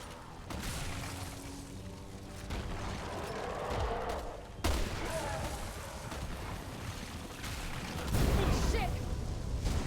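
Gunshots in the Resident Evil 6 video game: a sharp blast around the middle and a heavier boom near the end, both over a dense, rumbling mix of game sound and voices.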